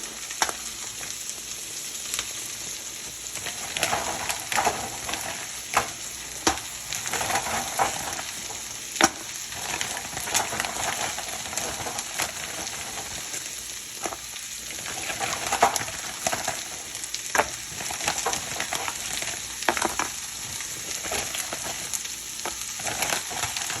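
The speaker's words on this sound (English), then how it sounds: "Once they're all added, give it a nice stir." Dumplings are stirred into a curry frying in a pan, a steady crackling sizzle throughout with frequent scraping and clattering of the spoon against the pan, close and without voices.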